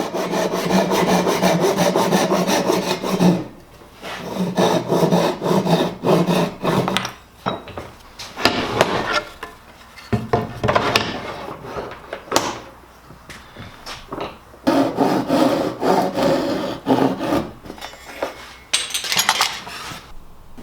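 Hand-sawing wood to cut male dovetails for a farmhouse trestle table base: rapid rasping strokes in repeated bursts with short pauses between, close and loud, with occasional light knocks.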